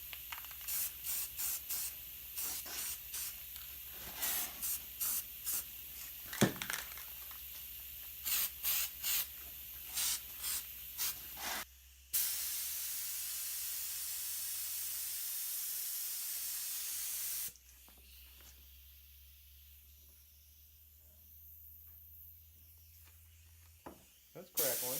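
An air spray gun sprays black crackle paint onto a fan, giving a steady close hiss in short repeated bursts, then one long continuous spray, with a quieter stretch after it.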